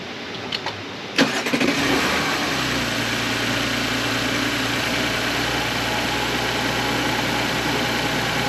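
A car engine cranks and catches, then settles into a steady, even idle close by.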